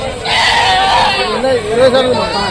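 Goats bleat loudly and repeatedly at the Rajarampalli weekly animal market, wavering cries layered over crowd chatter and nearby voices.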